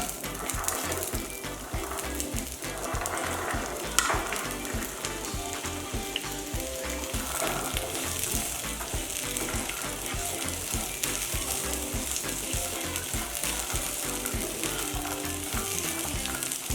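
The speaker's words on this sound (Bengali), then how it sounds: "আমি সবজিগুলোকে শ্যালো ফ্রাই করে নেব, বেশি ভাজবো না, কারণ কালারগুলো নষ্ট হয়ে যাবে।" Mixed vegetables shallow fry in white oil in a pan, giving a loud continuous sizzle with regular scraping and clattering stir strokes, close up and with no voices, throughout the whole stretch.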